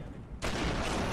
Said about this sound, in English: there's that guy that's shooting at me